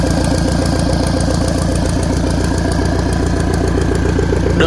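A Mitsubishi 100 hp turbocharged high-speed marine engine runs loud and close, a steady rapid mechanical chug with a continuous whine on top, unbroken throughout.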